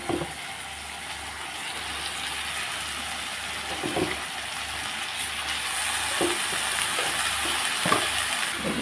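Cabbage sizzles in a pan with cooked-down tomato: a steady, close frying hiss with occasional soft stirring knocks.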